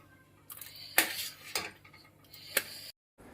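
A metal lid set onto a pan of cooked vegetables, a few clear clinks and knocks of metal against metal, fairly quiet, followed by a brief silence.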